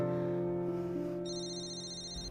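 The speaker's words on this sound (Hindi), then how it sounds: "भाई वानी का फोन आ रहा है" A mobile phone rings with an incoming call indoors, a faint steady electronic ringtone with a higher melodic tone entering partway through, no one speaking over it.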